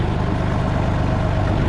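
A Massey Ferguson 135 tractor engine runs at low throttle, a close, steady low-pitched diesel chug with an even rhythmic thrum throughout.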